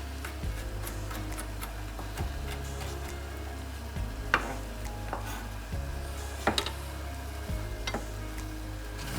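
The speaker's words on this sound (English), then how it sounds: "As long as you're watching your potatoes and onions cook up and they're not burning." Potatoes and onions fry in a pot for broccoli soup, giving a steady low sizzle and hiss broken by a few sharp scrapes and clinks of a stirring utensil against the metal.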